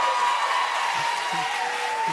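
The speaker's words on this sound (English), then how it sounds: "This is the crowd here" Concert crowd at the Governor's Ball music festival, a sustained broadband roar of cheering and screaming that stays loud and steady throughout, with faint tonal voices rising within it.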